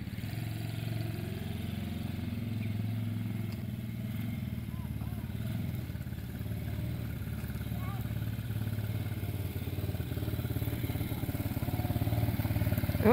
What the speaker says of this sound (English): Mike got the four-wheeler running and cleaned the carburetor. Now him and Dalton are going for a ride